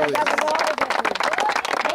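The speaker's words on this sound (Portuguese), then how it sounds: "Dá uma salva de palmas para Jesus." Congregation clapping hands together at a church baptism service, a dense burst of applause mixed with crowd voices and chatter.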